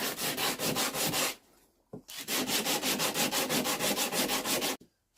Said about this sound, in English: going to put the hammer on the work surface and start sanding it to get it cleaner.